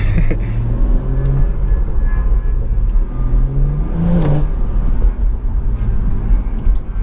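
A BMW 340i with a B58 engine rumbles steadily with low burbling exhaust pops as it accelerates, close by and continuous throughout.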